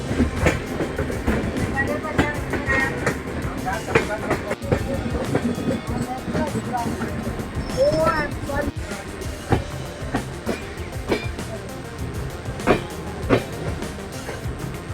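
A train rolls down a gentle slope through the Western Ghats, a constant rumble with wheel clacks and occasional squeals heard from inside, while a person talks over it.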